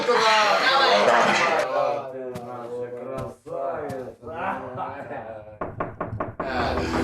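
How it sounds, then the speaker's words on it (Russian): A quick series of about four sharp raps on a door comes near the end, following a stretch of talking voices. "Кто там стучит?"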